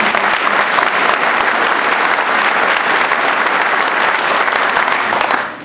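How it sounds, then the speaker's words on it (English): Sustained audience applause at a military retirement ceremony for a chief master sergeant, a dense, loud wash of clapping hands filling the room for several seconds before tapering off at the end. "A round of applause for all these members."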